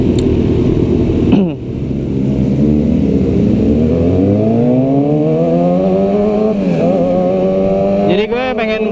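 Honda CBR-style F4 RC sport motorcycle, ridden at speed, revs continuously with rising engine pitch through gear changes, loud and close, with a brief throttle dip early and another shift near the end.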